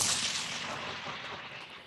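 Artillery guns firing during a live-fire military exercise with U.S. Marines and UK and Australian forces: a loud, close blast that opens the moment and then decays into a long rolling rumble and reverberation.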